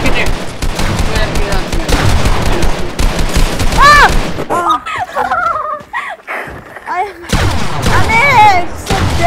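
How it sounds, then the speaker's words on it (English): A video game build fight brings rapid bursts of loud gunfire, with sharp shots in quick clusters and brief pauses between them. Excited voices and chirpy game sounds mix in. "I shot Julia for revenge."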